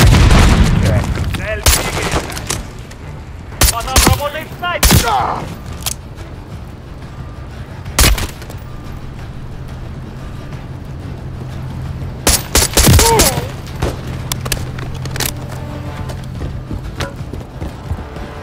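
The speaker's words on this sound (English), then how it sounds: "taking fire from the bridge" Gunfire from a bridge in a Call of Duty battle: sharp shots and short bursts break out in scattered clusters over a steady low hum and mechanical clatter, with the loudest volleys near the middle and later on.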